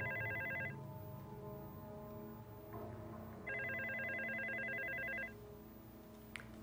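A telephone rings in two long electronic trills separated by a pause, steady and moderately loud over a faint room hum, with no talking.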